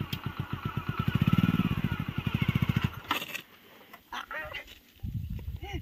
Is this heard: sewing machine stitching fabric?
no